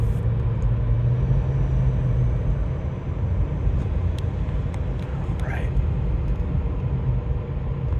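A Mercedes SL500 R129 drives along a country road, a steady low rumble of engine and road noise heard from inside the car, with brief faint clicks and no clear talk.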